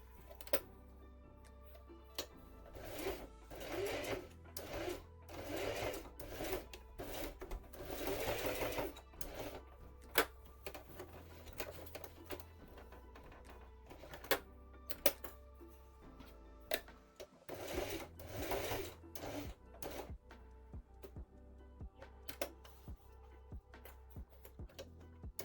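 A sewing machine stitches fabric in quick mechanical bursts of rapid ticking. Short runs are separated by pauses and sharp clicks, heard up close at a moderate level.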